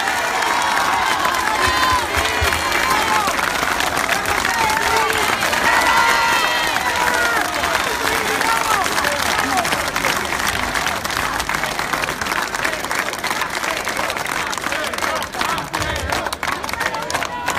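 A large outdoor crowd at a political rally in a city square in Trieste claps and cheers steadily throughout, a dense continuous roar of applause with scattered shouts.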